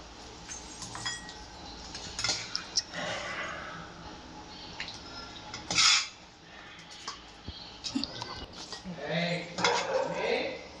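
Chicken curry being served from a pan into a bowl, with metal spoon scrapes, clinks and clatter of the cookware, close and fairly quiet over faint kitchen background.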